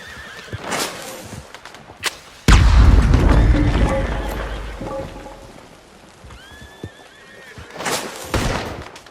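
Horses in Red Dead Redemption 2 whinny and neigh in agitation, with clip-clopping hooves and a sudden loud boom partway through; the horse calls rise and fall several times, fairly close, with no talk.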